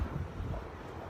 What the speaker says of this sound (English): It's really windy in Syracuse, New York.